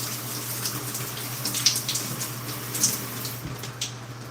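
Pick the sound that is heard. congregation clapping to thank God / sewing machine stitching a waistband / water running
water running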